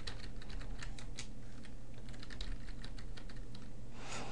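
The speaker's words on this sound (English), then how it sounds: "So then we'll type a paragraph, and from there we can type a few more lines." Steady typing on a computer keyboard, a continuous run of quick, close key clicks with no voices over a low background hum.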